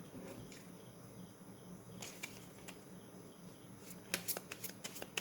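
Tarot cards are reshuffled during a pick-a-card reading, a soft continuous rustle with a few crisp riffling bursts near the end, close and fairly quiet, with no voices.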